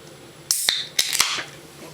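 Cap popping off a bottle of 1893 Pepsi, a sharp hiss at about the halfway point followed by several brief bright fizzing bursts over roughly a second, then settling to quiet room tone.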